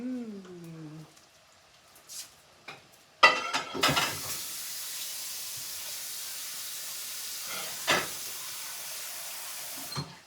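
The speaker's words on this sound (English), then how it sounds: "So let's go ahead and put the steak in there." Steaks hit a hot pan with a sudden loud burst of sizzling that settles into a continuous hiss, preceded by brief talk and light handling sounds, with another flare of spattering near the end.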